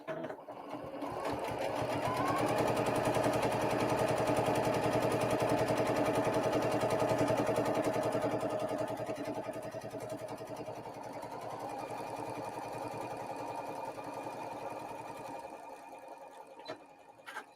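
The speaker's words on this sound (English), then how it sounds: "So change my stitch, press your foot down," Domestic sewing machine running a quarter-inch quilting seam on a scrappy patchwork block, a steady loud mechanical whir that holds for most of the stretch, easing slightly near the end before stopping.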